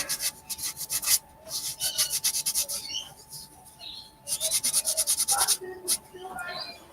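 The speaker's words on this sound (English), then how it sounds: "clean up this little nip here and sand it, just get rid of the little ridges and stuff on there from where the saw cut it" Someone hand-sands a saw-cut wooden lid flipper to smooth rough ridges, making rapid rhythmic close scratchy strokes in two bursts with a short pause between, while people talk in the background.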